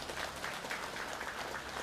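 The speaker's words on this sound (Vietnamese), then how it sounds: "Quý vị thích vỗ tay hả?" Faint, steady clapping from an audience during a spiritual talk, a soft continuous patter of many hands heard at a distance without speech over it.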